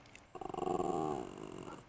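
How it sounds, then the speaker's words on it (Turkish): A trained dog growls on command, a low rumbling snarl that starts in pulsing bursts and settles into a steady drawn-out growl lasting under two seconds, close and fairly loud with no talking over it. "Mitril, hırla."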